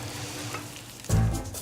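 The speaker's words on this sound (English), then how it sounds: "deep frying lobster in a tempura batter, and pan frying scallops" Lobster in tempura batter deep frying alongside scallops pan frying in lots of butter, a steady close crackling sizzle that swells louder near the end.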